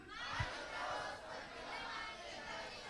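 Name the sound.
audience applause and cheering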